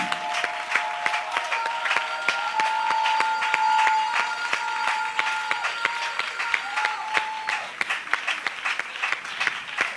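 A church congregation claps and cheers in praise to God, a long steady wave of crowd applause with distinct individual claps, some sustained tones and voices mixed beneath.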